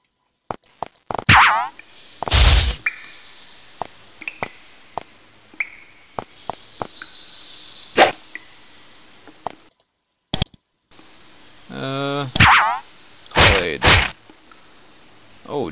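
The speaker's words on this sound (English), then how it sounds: "Lance of fire." A lance of fire spell is cast in the fantasy role-playing game Nethergate, among scattered sharp game clicks, whooshes and springy effect bursts with brief silent gaps.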